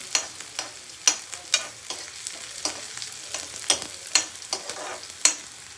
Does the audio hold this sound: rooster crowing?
no